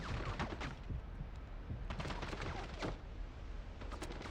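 Gunfire during a firefight in the video game 007 Bloodstone, dense overlapping shots and bursts crackling continuously at a moderate distance with a rumbling low end, no voices.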